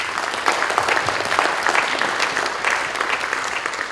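A crowd applauds steadily at a Georgia Senate school safety committee meeting, a dense wash of clapping that carries on at an even level without pause.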